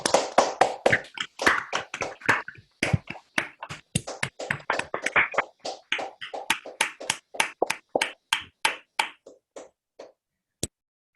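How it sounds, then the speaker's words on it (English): Scattered claps come from an online audience after a math talk as people unmute, starting dense and overlapping, then thinning into separate close claps before a final lone clap. "Let's all try unmuting and clapping."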